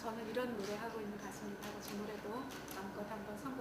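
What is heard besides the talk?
No everyday noise stands out behind the speech.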